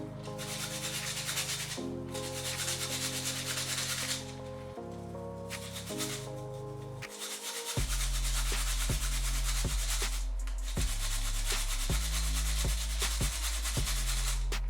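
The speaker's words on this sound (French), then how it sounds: "Je vais venir gratter maintenant la deuxième carotte" A carrot is scraped on a grater in repeated rhythmic rasping strokes, close and clear, with brief pauses between bursts of rubbing.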